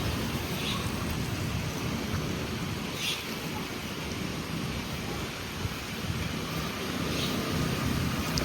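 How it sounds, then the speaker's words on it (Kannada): Steady light rain falls outdoors near a temple in pleasant weather, a continuous close, even hiss of drops with no voices. "ಆ್ಯಂಡ್ ಲೈಟಾಗಿ ಮಳೆ ಅಂದರೆ ಹನಿ ಬೀಳ್ತಿದೆ"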